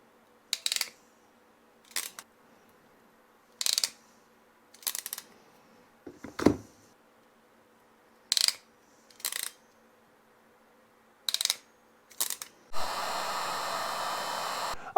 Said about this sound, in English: now that all of our ring terminals are crimped on and they are heat shrunk